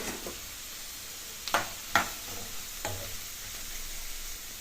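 Cucumber curry cooking in a pan over a medium flame, a steady soft sizzle with a few sharp clinks or stirs standing out, close and fairly quiet, no talking.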